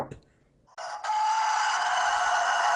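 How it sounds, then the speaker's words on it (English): Rooster crowing sound effect: after a brief faint lead-in, a loud, sustained, harsh crow starts abruptly and holds steady to the end, close and alone. "It's death metal rooster."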